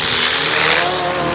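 A Cobra 500 RC helicopter with a Flish RC L7 flight controller and 6S power flies overhead outdoors, its rotor giving a loud, steady, close whooshing roar that fills the whole moment without a break.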